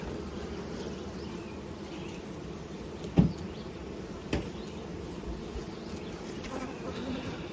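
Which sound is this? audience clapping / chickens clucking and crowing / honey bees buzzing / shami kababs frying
honey bees buzzing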